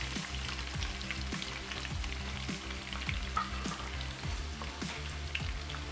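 Onions sizzle and fry steadily in a little oil while the masala for a pumpkin kofta gravy is being prepared. The crackle stays dense and even, close and continuous, with no talking.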